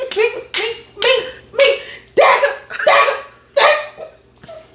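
A dog barks in repeated loud bursts, roughly one every second, with some yipping, close by, while voices are faintly present underneath.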